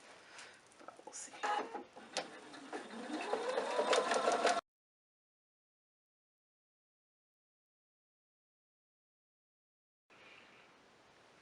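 A sewing machine runs a decorative stitch on a large quilted pot holder, a steady whirring run that speeds up and rises in pitch for about four seconds, then cuts off into silence.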